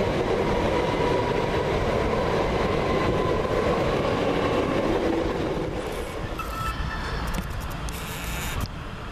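Class 377 electric multiple unit on the Victoria to Southampton Central service passing at Havant, a loud steady roar of wheels and rail noise close by that fades somewhat near the end.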